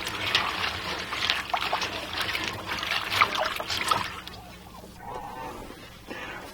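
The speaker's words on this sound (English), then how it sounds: "I just put the hickory chips in there and give them a good stir so that they'll get wet and absorb all that water." Hickory wood chips stirred in a container of water, giving a run of close, gentle sloshing and trickling splashes that fade toward the end.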